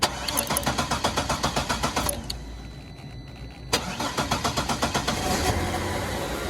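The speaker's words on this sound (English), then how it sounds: "And it starts the car." A Cadillac SRX engine cranks with a rapid rhythmic starter chatter, pauses briefly, then cranks again in a second burst before catching and settling into a steady idle, close and fairly loud.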